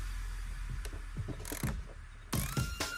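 An 8mm socket ratchet loosening engine bolts on a 2017 Mustang GT clicks in short bursts of pawl ticks against a steady low hum.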